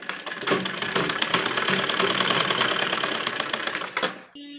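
A sewing machine runs steadily for about four seconds, stitching a folded fabric seam on a toddler's frock, with a dense mechanical whir that then stops abruptly.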